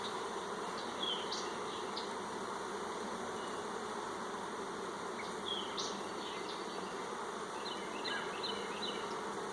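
Honey bees buzz around an opened hive while a box of foundation is added, a constant soft droning hum with a few closer individual bees passing by.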